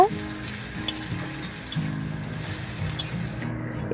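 Onions and chillies, already fried light reddish, stirred in fish oil in a pan for a Bengali aubergine dish, with steady close sizzling and repeated low scraping strokes throughout.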